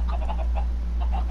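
Blocky chickens cluck in short repeated bursts in Minecraft, set against a steady low drone from the game, with no talking.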